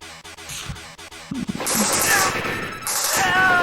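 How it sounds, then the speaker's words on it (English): Gunfire in an Operation Thunderbolt arcade light-gun game boss battle: a few sparse thuds give way to a loud, continuous burst of rapid shooting, with electronic game sounds layered over it. "Look at me shooting that poor pilot"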